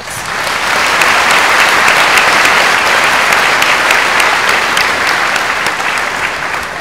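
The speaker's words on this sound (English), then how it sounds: "Please join me in a round of applause for the following individuals." A large crowd applauds at the 2022 West Holmes High School commencement, with steady, dense clapping swelling in and then easing slightly toward the end.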